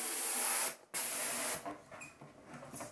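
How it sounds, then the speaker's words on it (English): A helium tank hisses loudly while filling balloons, one long steady spray that breaks off briefly, resumes, then fades into softer intermittent hissing and rustling. "So we've got a helium tank."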